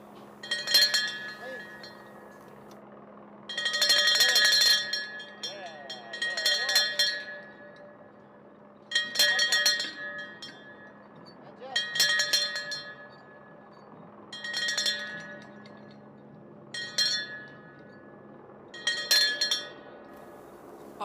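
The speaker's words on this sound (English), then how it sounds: "Those were some enthusiastic bell rings right there." Crew members ring a bell before boarding the New Shepard rocket, about eight bright clanging bursts in an irregular rhythm over roughly twenty seconds, heard from a distance over a steady low hum.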